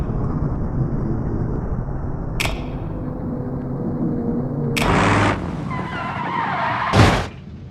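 Bruckell Nine car drifting with throttle and brakes worked together, a continuous engine roar with bursts of tire skidding and squeal, including a louder screech near the end, no talk.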